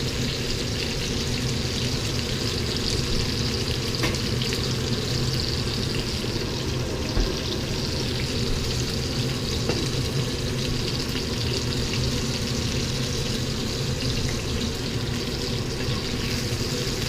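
A ribsteak being constantly flipped while it sears in a pan keeps up a loud, dense, continuous sizzle close by for the whole stretch, with a few faint clinks mixed in.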